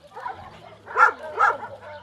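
Dogs at a shelter play and bark, with two strong close barks in the middle and softer yips and whimpering around them.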